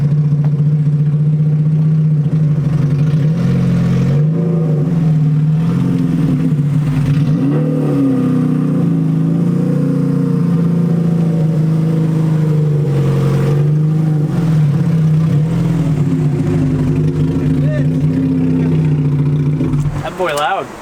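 A 2JZ-swapped Honda Civic engine runs loud and close, holding a deep steady drone with rising and falling revs, while people talk over it.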